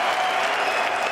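Large arena crowd at the FACEIT Major London 2018 Counter-Strike grand final applauding champions Astralis, a brief, dense burst of clapping and cheering.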